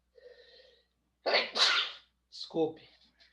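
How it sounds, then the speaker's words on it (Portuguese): A person sneezes indoors, with a short intake of breath, a loud sharp double burst, and a brief follow-up exhale or murmur. "Agora fui eu que espirrei."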